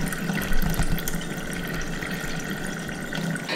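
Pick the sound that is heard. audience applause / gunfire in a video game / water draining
water draining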